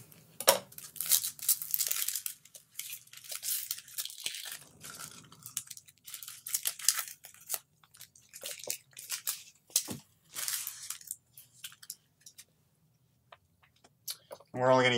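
A white onion's papery skin is peeled away by hand in quiet, close crackles and short tearing rustles, coming in irregular bursts with brief pauses between.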